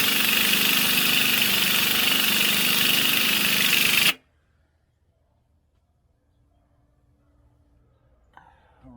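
Mitsubishi Jeep engine fitted with a Weber carburetor idles high with a loud, steady roar for about four seconds, then cuts off abruptly into near silence with faint rustling at the end.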